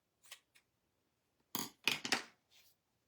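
Scissors cut paper in a few quiet, close snips: two light clicks, then a cluster of three sharper cuts and a soft final one, with no talking.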